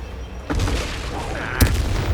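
A fire spell cast in the video game Hogwarts Legacy: a sudden whooshing burst flares up, followed by a second sharp flash of flame, loud and close amid game ambience.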